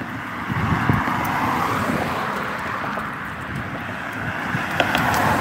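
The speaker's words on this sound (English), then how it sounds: "Y'all gonna have to excuse the wind." Strong wind buffets the microphone outdoors on a windy day, a steady loud broadband rumble throughout with slight gusts and a faint vehicle drone underneath.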